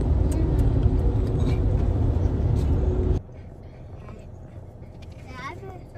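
Car cruising on a long ride, a loud steady cabin rumble of engine and road noise for about three seconds, then dropping abruptly to a quieter hum with faint voices.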